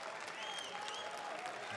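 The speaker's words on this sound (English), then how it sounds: "Drags a ripple of applause out of the crowd." A darts match crowd at the 2017 Austrian Darts Open gives a short ripple of applause, a steady wash of clapping heard at a distance.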